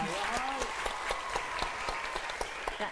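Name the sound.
audience applause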